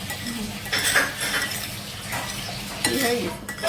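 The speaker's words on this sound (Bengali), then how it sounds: "এই জেলিগুলো কেটে নিচ্ছে" A knife cutting through set jelly on a plate, giving a few close clinks and scrapes of metal against the dish, with faint voices in the background.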